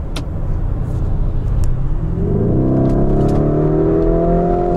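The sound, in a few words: Lamborghini Urus exhaust and engine revving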